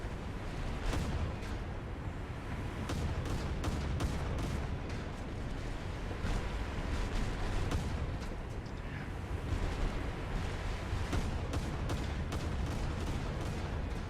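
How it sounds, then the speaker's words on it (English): Automatic machine gun fire from a destroyer in a War Thunder naval battle, sounding as irregular sharp bursts over a steady engine and sea rumble. "I hear my little machine guns firing"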